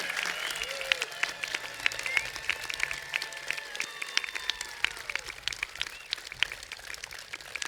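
A crowd at a Veterans Day event claps and cheers in a dense, steady patter of applause with scattered whoops, heard from a moderate distance.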